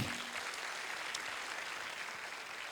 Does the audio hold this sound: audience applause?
yes